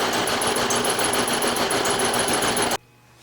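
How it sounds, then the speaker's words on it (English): A milling machine cuts a stress line groove along the bottom flange of a steel rail, giving a loud, steady, dense grinding chatter with a rapid ticking pulse that stops abruptly near the end, leaving only faint room hum. "I'm finished milling the stress line groove along the bottom flange of this rail"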